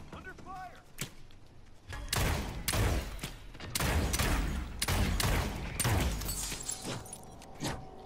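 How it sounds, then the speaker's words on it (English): Video game gunfire in a squad firefight: a series of loud, sharp shots and bursts in irregular clusters, some close and booming, with voices calling out between them. "Under fire! Gotcha, they got a sniper"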